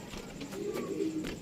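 A pigeon held in the hand gives a soft, low coo, a single short murmuring phrase heard up close with no talk over it.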